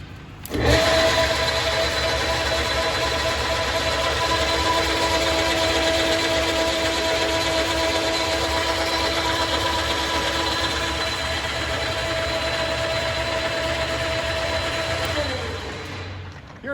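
An Enco M2563 metal lathe with a 50 to 1200 RPM range runs steadily, a close mechanical whine with a constant tonal hum and gear drone that starts abruptly and winds down near the end.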